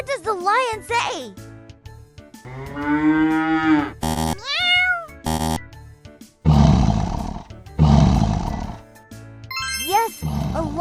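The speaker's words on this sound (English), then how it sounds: "Yes, a lion, the king of the jungle, loves to roar to show who's boss." Among a string of other animal calls and chirps, a lion roars twice in rough, loud, breathy bursts close by, each lasting about a second and a half.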